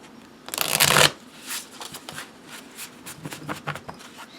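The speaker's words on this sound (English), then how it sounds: "we're going to give it a good shuffle here" Tarot cards from a Wild Unknown deck are shuffled close by, a loud riffling burst followed by softer, uneven slides and taps of the cards, with no talking over it.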